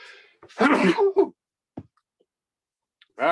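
A single sharp sneeze, close and loud, followed by a few faint clicks and a brief voice at the end.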